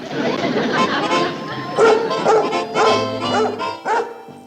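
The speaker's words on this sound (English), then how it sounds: "This sounds like the bark of a happy dog." A dog barks in a series of short, lively bursts, with people talking over and between the barks.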